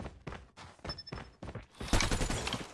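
Bursts of rapid fire from the Mythic Krig-6 assault rifle in Call of Duty Mobile, short choppy volleys at moderate loudness giving way to a denser, louder stretch of shooting.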